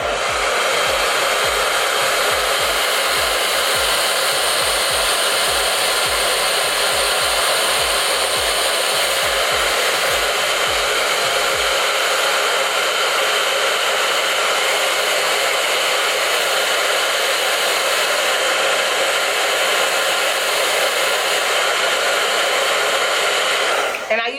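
A hair dryer on the cool setting blows onto wig glue, a loud, steady continuous whoosh lasting the whole time, with a low rumbling flutter early on that fades out halfway through.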